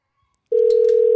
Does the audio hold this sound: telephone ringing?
yes